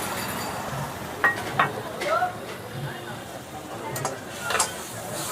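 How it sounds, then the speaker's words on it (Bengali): Mutton pieces tipped into hot oil sizzle and crackle in a roadside eatery, with a few metal clinks of stirring over the steady frying hiss while people talk nearby. "এক প্লেট ভর্তি পুরো চলে গেল তেলের মধ্যে, গরম তেলে"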